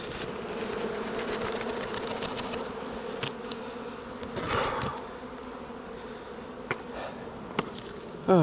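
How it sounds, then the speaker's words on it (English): Honeybees buzzing in a steady, droning swarm as they are shaken into a hive entrance, with a few sharp knocks and bumps rising above the hum. "So I'm just going to shake the bees here."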